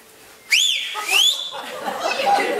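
A loud, sharp rising-and-falling whistle bursts out suddenly, followed by a second whistled swoop, with crowd chatter and murmuring continuing underneath, as in a crowded airport.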